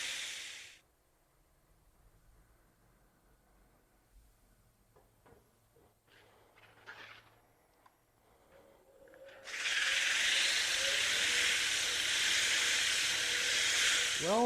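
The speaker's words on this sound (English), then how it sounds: "when I sand this, I'm using a belt for my belt sander" A belt sander with a 4-inch belt starts up on a round wooden column, a loud steady hissing rasp that runs continuously for the last several seconds after quiet workshop shuffling and knocks.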